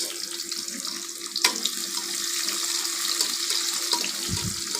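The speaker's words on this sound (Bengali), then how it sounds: "পেঁয়াজটা একটু ভালোভাবে ভেজে নিচ্ছি" Chopped onions fry in a pan for a Bengali rohu fish curry with potato and pointed gourd, giving off a steady close sizzle with a few small pops and crackles.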